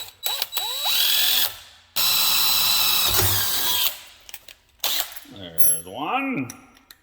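A drill center-drills a hole in a steel timing chain tensioner bracket for a Suzuki 650, running in several loud bursts of varying length separated by pauses, with the motor pitch sweeping up and down as it spins up and slows.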